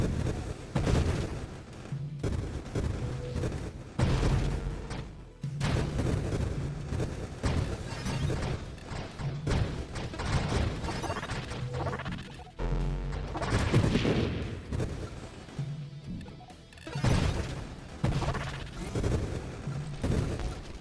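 In the space shooter Nova Drift, mines throw out grenades that burst in dense, rapid volleys of booming explosions, layered over a thick continuous battle rumble.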